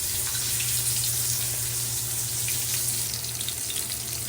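Pink salmon fries in butter and garlic with a steady, bright sizzle and crackle that holds close and constant throughout, with no voices.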